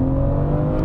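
A BMW M440i Coupé six-cylinder engine pulls hard while overtaking a truck on the road, a loud, dense, steady engine roar heard from inside the car.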